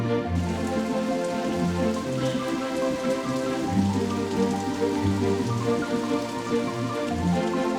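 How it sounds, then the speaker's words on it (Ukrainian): Steady cartoon rain pours down in a constant patter, with a sustained musical score playing underneath throughout. "Це чарівний дощ."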